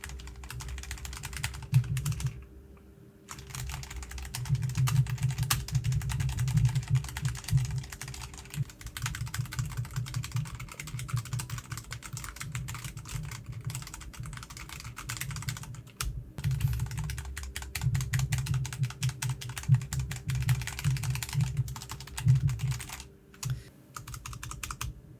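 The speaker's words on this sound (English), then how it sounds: "I should shut up and start typing" Steady typing on a computer keyboard at a desk with a microphone on a boom arm, dense close clicking keystrokes in continuous bursts with a few brief pauses, no talking.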